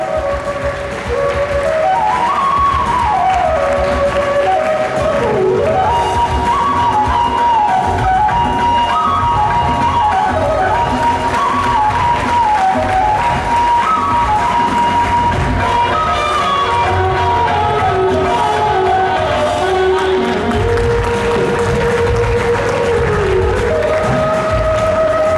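Students clap loudly and steadily at a school gathering, a dense, sustained wash of applause lasting throughout with a melodic tune running over it.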